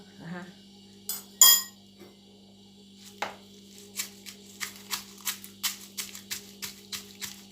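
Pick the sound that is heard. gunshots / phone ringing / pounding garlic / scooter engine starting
pounding garlic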